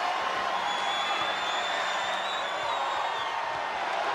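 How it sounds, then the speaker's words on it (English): Wrestling arena crowd cheering as a WWE wrestler climbs atop an ambulance, a steady, dense roar of many voices that holds at an even level throughout, with no single voice standing out. "Roxanne Perez rallying the crowd behind her."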